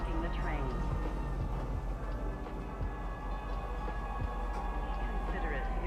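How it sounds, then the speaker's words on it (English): Train pulling into a station in Star Citizen, a steady loud rumble of wheels with metallic squeals and tonal hums sustained throughout, low clanks underneath. "Parking the train."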